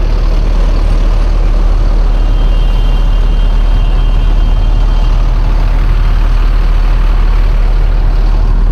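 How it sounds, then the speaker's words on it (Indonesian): A Damri bus in a parking lot, heard as a loud, steady engine rumble with a constant low hum throughout, close by and unbroken. "Nih kondisi di parkiran nih, di sebelah gua ada mobil bis Damri ya."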